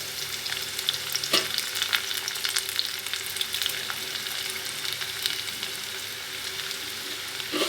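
Onions and curry leaves fry in hot oil with a steady, continuous sizzle, broken by occasional stirring clatters from a nearby pan, for the dried prawn and ridge gourd curry.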